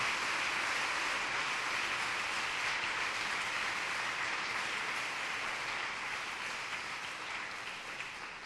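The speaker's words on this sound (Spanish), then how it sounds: "Denle entonces una ofrenda de palmas al Señor." A church congregation claps together in a steady, dense wash of applause that fills the room and fades slightly toward the end.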